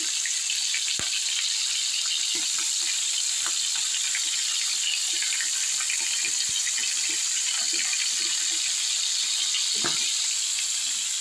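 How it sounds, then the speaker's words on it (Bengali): Parshe fish frying in hot oil in a kadai, a steady dense sizzle and crackle running throughout with scattered sharp pops and spatters, close and fairly loud with no talking. "তাই পার্শে মাছগুলো ভেজে নিচ্ছি"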